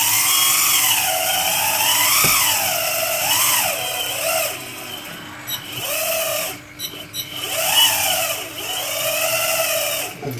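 Liebherr 956 excavator's quick coupler closing on site, a loud sustained hydraulic whine that rises and falls in repeated sweeping pitch arcs over a steady engine drone, with no talking.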